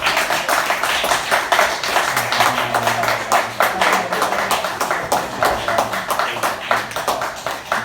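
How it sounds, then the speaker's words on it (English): Audience applause following a stand-up comedy set: a dense, steady wash of many hands clapping that holds at an even level throughout, with no pause. "Another round of applause for him"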